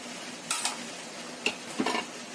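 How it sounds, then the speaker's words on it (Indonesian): A spoon stirs a sauce of water and a little cornstarch in a bowl, a quiet scraping swirl marked by a few light clinks against the side, close and alone. "Kemudian kita aduk-aduk sampai semuanya tercampur"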